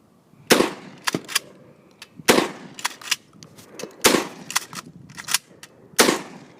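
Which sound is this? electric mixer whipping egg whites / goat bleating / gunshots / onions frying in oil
gunshots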